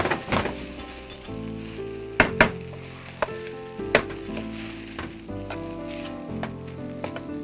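Chicken fried rice sizzles in a pan while being stirred, with scattered sharp clinks and scrapes of a utensil against the metal over a steady hiss.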